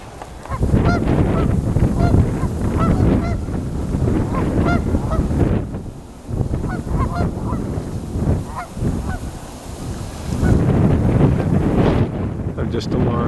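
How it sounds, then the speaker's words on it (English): A mixed flock of Canada geese and mallard ducks, startled by a river, erupts in loud repeated honking and calls in bursts, with wind buffeting the microphone throughout. "I've just alarmed this mixed gathering of Canada geese and mallard ducks."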